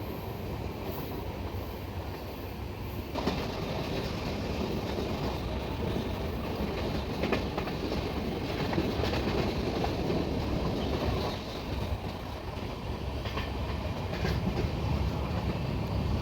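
Mumbai–Madgaon Jan Shatabdi Express pulls out of Chiplun station, heard from on board as a steady loud rumble of wheels and carriages with faint rhythmic clatter, continuous throughout and without voices.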